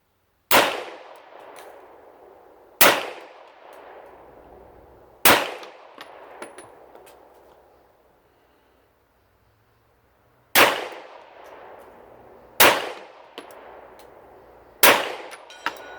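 Shots from a Laugo Arms Alien pistol ring a steel target at 100 yards. Six loud, sharp reports arrive at uneven intervals, and each leaves a long metallic ring that fades slowly before the next.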